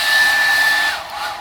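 A hair dryer in a cruise ship oceanview stateroom blows with a loud, steady whine, then stops abruptly near the end, leaving a quieter room tone.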